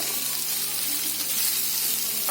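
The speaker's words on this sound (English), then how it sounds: "Now I am going to add the boiled rice or the steamed rice, around 1 cup," Steamed rice, about a cup, tipped into a pan of frying onion and beetroot, giving a steady broadband sizzle throughout with a brief stirring scrape near the end.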